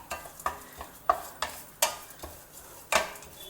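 Red poha frying in ghee is stirred in a pan with a spoon, giving repeated sharp scrapes and clinks over a low, steady sizzle, close up with an uneven rhythm.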